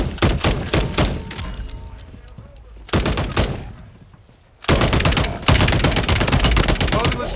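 Call of Duty MW3 firefight with multiple shooters: dense bursts of loud automatic gunfire and rapid shots, pausing briefly twice before resuming heavy and continuous, close and sharp.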